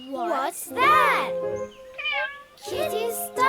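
A cat meows during toy pretend play with a fire truck, the high, rising-and-falling meows close and clear, mixed with animated, cartoonish voices.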